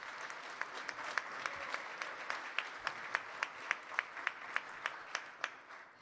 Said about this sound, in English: Can we just give the Lord a hand clap this morning?